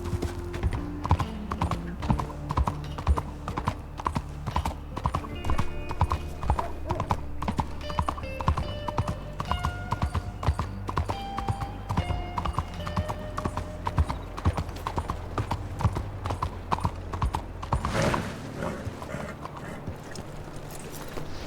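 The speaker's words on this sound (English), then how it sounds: "there's a horse outside" Horse hooves clip-clopping steadily in the Red Dead game, a continuous rhythmic gait running throughout at moderate loudness, joined by musical tones and occasional voices.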